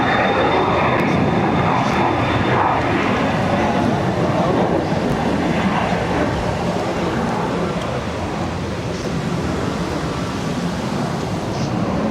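Steady loud roar of an airliner's jet engines at takeoff power departing Barcelona, a broad continuous rumble and whine that holds throughout with no pauses.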